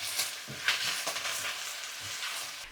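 Bok choy leaves stir-frying in a pan over high heat, a steady close sizzle and hiss with brief louder crackles and scraping stirs throughout, no voices.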